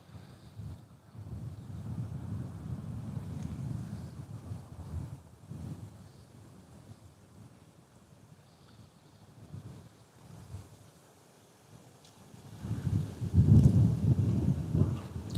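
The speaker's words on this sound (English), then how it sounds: "It's very windy" Strong wind buffets the microphone outdoors beside a rain-swollen stretch of water on a carp fishing outing, a continuous low roar that eases in the middle and gusts harder near the end, with no talking.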